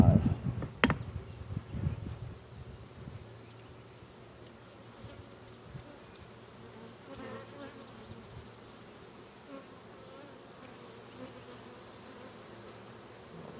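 A honeybee swarm buzzes around a hive, a steady faint insect drone lasting throughout after a few loud close knocks and handling noises at the start.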